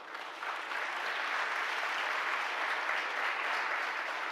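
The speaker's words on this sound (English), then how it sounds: "I want y'all to give yourself a round of applause for" A large audience at a university Founders' Day ceremony claps steadily, dense sustained applause building quickly after a short lead-in and holding at an even level throughout.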